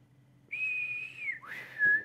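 A person whistles a long sustained note that bends down, then a rising slide and a second held note, alone and close.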